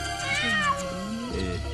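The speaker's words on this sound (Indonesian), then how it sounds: "Kucing." A cat gives a single drawn-out meow that rises and falls, close and clear, with a short trailing cry at the end and no talking.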